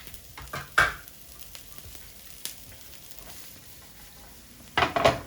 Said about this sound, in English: I'm gonna start by sauteing some diced onion.